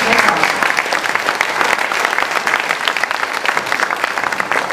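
An indoor audience at a regional gathering of small schools applauds steadily, with dense continuous clapping throughout and no break.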